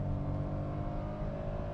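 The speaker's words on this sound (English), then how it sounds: "if you want to get going in a hurry anywhere, you really have to cane the engine" The engine of a 2022 Citroen C3 hatchback is worked hard, a steady loud revving drone with a constant pitch heard from inside the car, with no talk over it.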